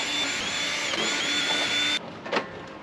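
A power screwdriver whirs steadily while unscrewing the back panel of a wine fridge, then cuts off, followed by a short clatter.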